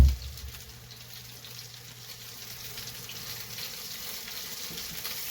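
Sour cream noodles frying in hot grease on a stovetop, a steady, close sizzle and crackle running throughout with no talking.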